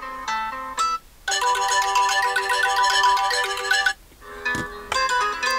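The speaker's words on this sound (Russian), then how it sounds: "Давайте прослушаем громкость нашего смартфона." Ringtone played loudly through a Bluboo D1 smartphone speaker, a bright melodic tune in repeating phrases with short gaps, close and clear with no talking.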